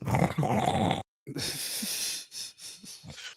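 A sleeping person snores in rough, wheezy breaths, one heavy rasp, a brief silence, then a longer hissing draw fading into softer broken breaths, close and alone.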